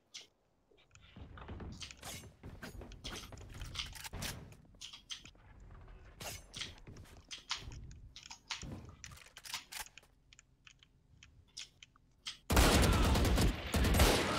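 Gunfire in the Valorant video game, sharp scattered shots and short bursts with clicks and crunchy impacts, ending in a loud sustained noisy blast.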